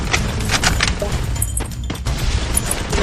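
Blasts from a grenade in the Free Fire battle royale game, booming and crackling in quick bursts alongside constant gunfire and loud game noise for about three seconds.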